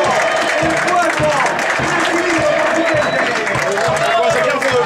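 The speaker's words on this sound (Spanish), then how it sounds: "¡Un aplauso!" A stadium crowd applauds and cheers as a football player takes the field at a Tucumán regional league match, dense and continuous throughout under an excited announcer's voice.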